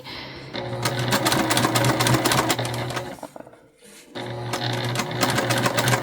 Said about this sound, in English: we're getting to the point here where we started our stitching